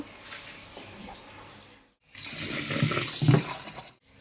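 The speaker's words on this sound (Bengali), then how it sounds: "এটাকে একটু জল দিয়ে ভিজিয়ে রাখবো আপাতত" Water poured from a tap into a bowl of broken rice to soak it, a rushing splash that swells, then cuts off abruptly, after a quieter stretch of kitchen noise.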